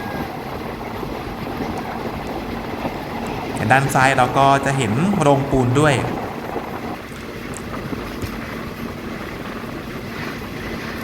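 Rapid train 135 rumbles steadily along the lower northeastern line between Pha Sadet and Hin Lap tunnels, with a brief burst of louder clattering midway, while someone talks throughout.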